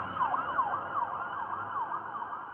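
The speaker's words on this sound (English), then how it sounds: "They got police sirens." A wailing emergency siren sweeps up and down repeatedly, fairly distant and moderately loud, with no voices.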